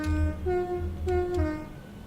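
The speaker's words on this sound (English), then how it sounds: "There's the other train." A train passes in the railway simulator Train Sim World 3 on the Birmingham Cross City Line, giving a steady low engine rumble with sustained tonal horn-like notes, moderately loud and alone.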